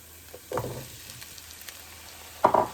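Potato slices dropping into a pan of half-cooked onion, giving two short bursts of sizzling and clatter with a soft steady frying hiss between them.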